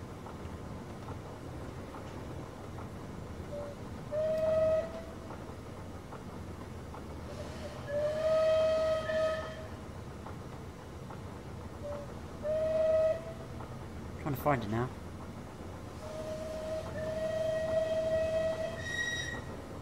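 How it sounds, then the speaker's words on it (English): In Train Simulator 2020, the Merchant Navy Clan Line steam locomotive sounds its whistle in four short, separate blasts over a steady rolling rumble, with a squeak at the end of a blast. A voice speaks briefly between them. "at the end, as the second whistle, it has a squeak at the end"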